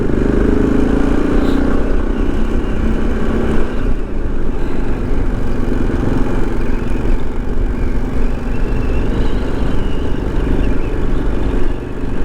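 A motorcycle ridden along a small rural dirt road on new Michelin tires. Its engine is a steady, close, continuous drone mixed with rumbling wind and road noise throughout, with no voices.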